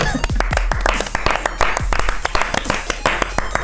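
A small studio audience claps in uneven, scattered bursts, close and fairly loud, while people talk and laugh over the clapping.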